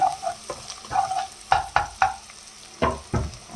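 Food browning in a frying pan while Filipino ginisang kailan vegetables are cooked, with fried fish also on the menu. A steady sizzle runs throughout, broken by several sharp clinks and scrapes as the pan is stirred, and no one speaks.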